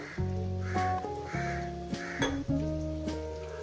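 Poppy-seed bowl rinse water poured into a pan of frying potatoes, a soft sizzle and a few clinks of a utensil against the pan, heard under a sustained musical tone.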